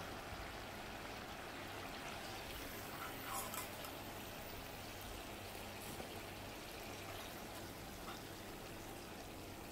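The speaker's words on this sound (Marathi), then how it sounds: "आता सर्व चणे मी असे तळून घेते।" Batter-coated chickpeas fry in hot oil with a steady, soft, even sizzle that holds throughout at low volume.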